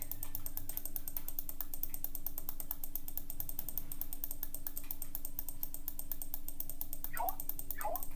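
Rapid, steady mouse clicking while playing the planet-destroying game Solar Smash, a dense regular patter of clicks running throughout over a constant background hum, with a couple of brief chirping game effects near the end.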